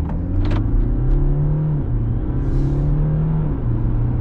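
BMW 125d F20 diesel hatchback pulling away from a standstill without launch control, a loud, steady low engine drone that rises through the run, heard from inside the car with a brief hiss partway through.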